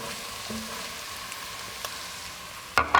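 Sausage and onion frying in a pan give a steady, close sizzle with faint stirring, ending in a brief louder clatter of utensil on the pan.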